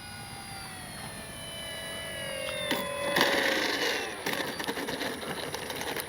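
An E-flite SNJ-5 Texan RC model airplane flies overhead, its electric motor whine gliding down in pitch as it passes, then swelling and wavering with throttle changes; no voices.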